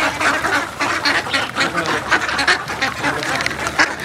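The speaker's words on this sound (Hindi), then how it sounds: "मुझे जो चाहिए ना बत्तख के बच्चे वो ये वाले हैं" Ducklings quack in quick, repeated bursts, close and continuous, with a baby duck chorus filling the scene and a faint voice in the background.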